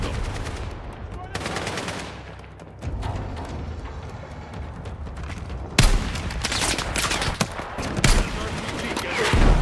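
Battlefield 6 combat on the mission The Rock, with dense bursts of automatic gunfire and RPG launches crackling back and forth, heaviest near the end with sharp loud blasts among continuous shooting.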